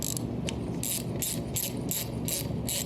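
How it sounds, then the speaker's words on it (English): A ratchet tightening a brake caliper during a rebuild on a C3 Corvette: quick, evenly spaced metallic clicking strokes, close and fairly quiet, with no talking. "Then we are going to tighten with a ratchet."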